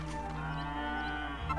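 A cow moos in a video game, a low, drawn-out bellow sustained for over a second against a steady background hum.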